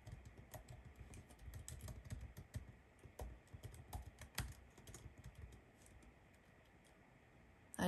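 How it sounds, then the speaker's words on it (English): Typing on a computer keyboard, a close, quiet patter of irregular key clicks that thins out and stops toward the end, with no voices. "I guess this person really wants me to type something."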